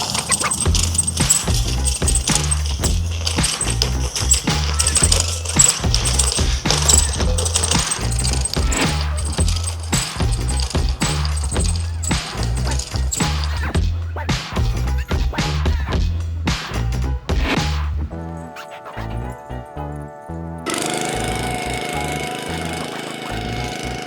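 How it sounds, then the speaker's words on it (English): A budget rolling lawn aerator pulls plugs from thick turf, making a loud, continuous clatter of rattling tines and metallic knocking, with the rolling rhythm breaking up and changing toward the end. "So we're gonna get a good idea of how well this rolling lawn aerator really does."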